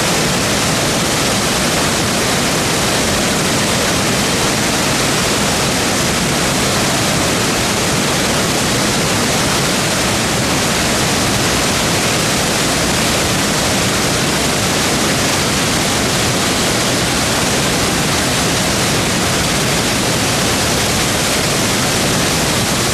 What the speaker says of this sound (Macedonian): Ова е овде таа каскада на Елешката река